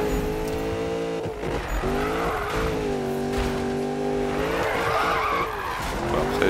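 A car drifts in Need for Speed, its tires squealing in long wavering tones over a steady, revving engine, loud and continuous with shifts in pitch as the slide changes.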